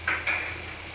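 Tomato paste frying in oil in a pan for an aloo chana dal curry, a soft steady sizzle with a brief stirring scrape near the start, close and alone.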